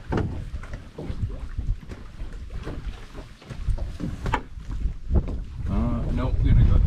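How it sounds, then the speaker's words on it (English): Wind gusting across a big lake during a canoe trip, buffeting the microphone with rough, swelling rumbles that grow stronger toward the end, while a person speaks over it. "this wind is picking up"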